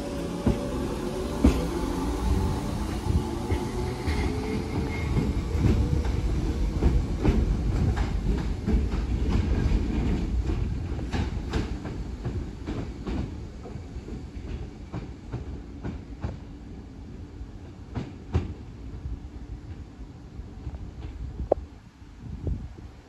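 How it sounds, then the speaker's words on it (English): Class 150 and Class 156 diesel multiple units pass through a station, a steady rumble of engines and wheels with rhythmic clicks over the rail joints, close and continuous, fading toward the end. "Train now passing through. It looks like a 150. And I think 156 at the rear."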